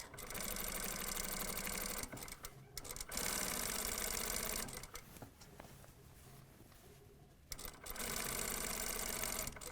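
A sewing machine stitches a front zipper onto a vest, its motor whirring in loud continuous runs broken by brief pauses as the fabric is repositioned, with no talking.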